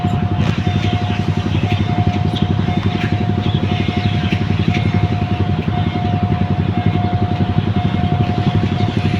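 Express train No. 75 running 39 minutes late, passing a level crossing near Nong Bua market in Thailand, a loud, steady diesel engine drone with rapid rhythmic clatter and a sustained tonal whine, held close throughout.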